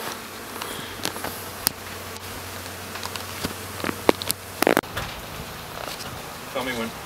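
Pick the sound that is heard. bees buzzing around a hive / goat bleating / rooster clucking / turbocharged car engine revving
bees buzzing around a hive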